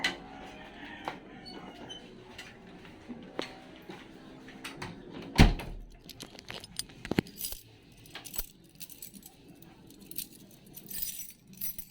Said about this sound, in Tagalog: Nahulog pa ang susi.